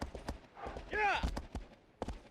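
Hooves of a horse clip-clop in a rapid rhythmic run in Shadow of the Colossus, with a whinny rising midway, all under people talking over the gameplay.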